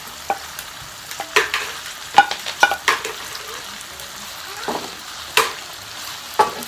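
Scallion, tomato, thyme and garlic tossed into a pot for Jamaican salt mackerel, with a soft frying sizzle under repeated sharp clinks and scrapes of a spoon stirring against the metal pot.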